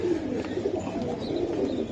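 Pigeons of the Tota phase Rabbani breed, big and powerful birds, coo softly and continuously near at hand amid a low rumble of birds, with no talk over them.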